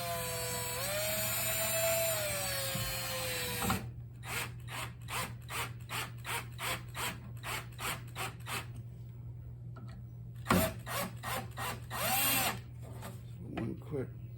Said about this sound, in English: I am going to cheat and use my drill for a second.